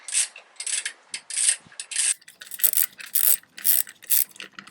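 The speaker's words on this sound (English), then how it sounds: "there's just 2 very large Allen bolts to hold those on, so we'll just undo those now." Ratchet clicking in rapid bursts while undoing two large Allen bolts holding the rider foot peg hanger on a Honda CB500X motorcycle; close, repeated ratcheting strokes with short pauses between, no talking.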